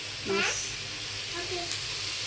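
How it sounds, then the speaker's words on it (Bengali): Potatoes and onions fry together in a pan with a steady soft sizzle, while a voice talks briefly over it. "আলু পেঁয়াজ একসাথে ভেজে"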